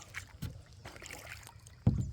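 Kayak on foggy water before sunrise, with soft paddle strokes and gentle water sounds, two sharper splashes standing out, no talking.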